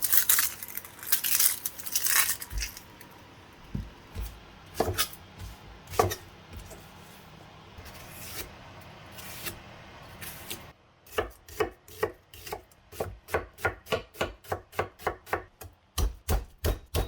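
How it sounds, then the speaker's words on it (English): A knife chops garlic and onion on a board for a quick chicken curry: irregular scraping cuts at first, then a fast, steady run of crisp, evenly spaced chops, close and clear with no talking. "Now I'm going to get to chopping my garlic and my onion"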